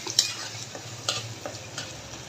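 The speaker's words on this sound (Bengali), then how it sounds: "পেঁয়াজগুলোর সাথে আমি তেজপাতাগুলো ভেজে নেব।" Onions and bay leaves frying in hot oil for a Bengali country-chicken bhuna, with steady low sizzling under several sharp stirring scrapes of a utensil against the pan, close by and with no talk.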